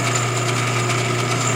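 A small lathe hums and whirs at a steady pitch, close by and continuous, with a faint rhythmic pulsing from the spinning chuck.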